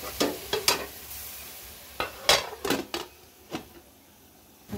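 Bottle gourd being stirred into spices in a pan, cooked after fish has been removed: a series of sharp scraping and stirring strokes, close and irregular, with a faint sizzle beneath and no talking.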